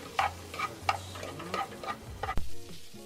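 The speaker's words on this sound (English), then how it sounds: "Add our chopped prawns and let it cook for 2 to 3 minutes." Chopped prawns with garlic and chili sizzling in a hot pan, a steady close frying hiss with a few stirring scrapes and ticks, and a brief clatter near the end.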